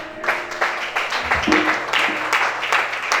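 A church congregation applauds Chantal during a prayer and worship service: a sustained crowd clapping that swells and holds steady for a few seconds, with faint voices mixed in.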